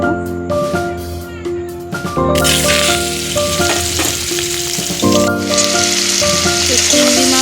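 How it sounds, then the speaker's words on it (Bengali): Prawns drop into hot oil for a mustard-paste recipe, starting with a few clinks and tonal kitchen sounds before a loud, continuous sizzle and crackle of frying takes over and holds steady close by. "তো চিংড়ি মাছটা ভেজে নেবো ভালো করে।"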